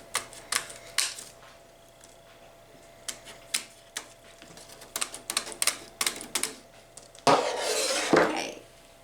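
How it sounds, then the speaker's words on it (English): Wire cutters snipping through a thin metal wire basket from Dollar Tree, giving a series of sharp, close clicks and snaps at irregular intervals, followed by a louder rustling, scraping burst near the end. "and then you can cut right through there."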